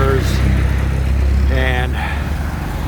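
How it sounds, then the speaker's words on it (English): Cars and scooters stream past a corner on Ring Road in Koh Samui, a continuous close rumble of engines with a motorbike note rising and passing, while someone talks over it. "it's just a continuous flow of cars and scooters"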